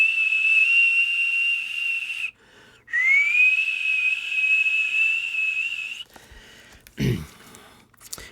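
A human voice imitates a whistling tea kettle on a gas stove with a long, shrill, steady whistle, breaking off briefly and rising back in, followed by breathy hiss and a short thump.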